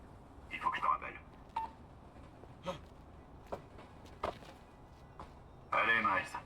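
A phone dialing sequence in a Spider-Man video game beeps in short tones, with brief clicks between them and a few spoken French words over it.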